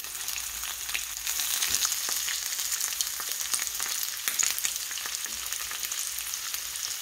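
Pork tocino sizzles and crackles steadily in a hot pan, a constant frying hiss with scattered pops and spits throughout.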